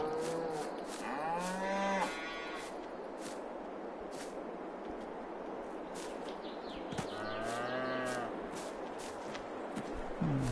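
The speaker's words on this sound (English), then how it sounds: "And you hear the cows over there," Dairy cows in a barn near the milking parlor, two long, drawn-out moos several seconds apart, fairly close, with a busy background of clanks and knocks in between.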